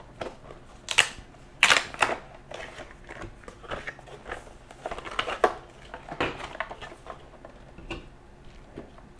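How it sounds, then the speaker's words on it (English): Cardboard box holding a set of JBL 45mm speakers for a Cardo motorcycle helmet intercom being opened, with scattered crisp clicks, rustles and tearing crackles of packaging at close range. "So I'm going to go ahead and open this box up"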